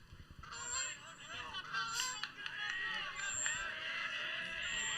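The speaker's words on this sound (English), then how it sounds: "Hear the geese flying above us." Faint honking of geese flying overhead drifts from a distance, several calls in a loose series over a low background hum with occasional voices at a ball game.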